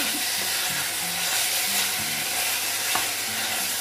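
Pork sizzles and hisses as it is stir-fried in a pot in place of a wok, a steady close frying crackle with scattered scraping stir strokes and one sharp clink near the end.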